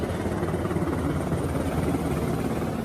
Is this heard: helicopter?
yes